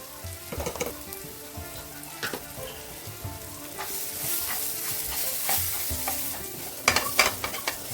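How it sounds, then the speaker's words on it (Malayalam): Masala, garam masala and fennel powder sauté in oil for a prawn roast, a close steady sizzle and fry with repeated scraping stirs of a spoon in the pan and no talking. "മസാലയൊക്കെ നല്ല മൂത്ത മണം വരുന്ന വരെ നമുക്ക് ആ എണ്ണയിൽ തന്നെ ഇട്ടിട്ടൊന്ന് വഴറ്റിയെടുക്കാം"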